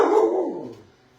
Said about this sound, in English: He thinks he has to bark at every car noise he hears outside.